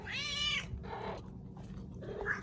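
A hungry pet cat gives a drawn-out meow followed by a shorter, softer one, close by indoors during a family morning routine.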